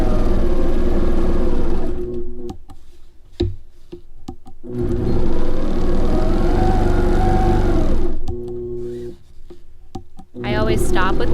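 An APQS longarm quilting machine stitches a wide arch border along a ruler, giving a steady mechanical whir in long runs that stop and restart, with short pauses and clicks between passes.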